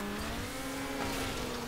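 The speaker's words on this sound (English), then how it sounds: "the over-revving on NOS is just not effective" Car engine in Need For Speed Underground holding high revs under NOS, a steady loud droning whine with constant pitch that runs unbroken throughout.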